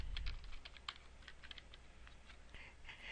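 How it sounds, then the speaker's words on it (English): Rapid keystrokes on a computer keyboard as a search term is entered, a quiet, fast, uneven patter of clicks with no voices. "And if we type in homeschooling"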